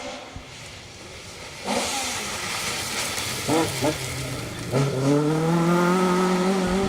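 A Ford RS 1600 Mark 1 rally car drives a special stage at the Cambrian Rally, its engine note rising and revving in several swells, getting louder and closer toward the end.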